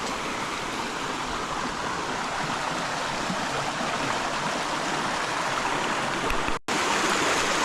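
Continuous broadband rush of warm river water flowing steadily nearby in southern France, even and unbroken apart from a brief cut near the end.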